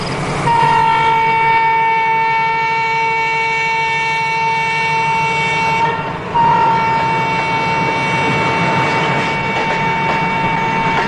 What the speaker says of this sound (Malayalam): സാർ ട്രെയിൻ വരുന്നുണ്ട്.